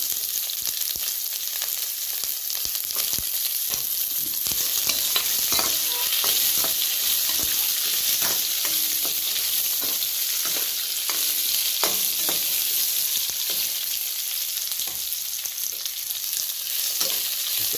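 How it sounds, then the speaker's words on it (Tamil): Onions and garlic sauté for a Chettinad fish curry, a loud, even sizzle hissing continuously with soft scrapes and taps of a spatula stirring the pan up close. "நல்லா வதக்கி விடுங்க. செந்நேரமாக வரட்டும், நல்லா வதக்கணும்."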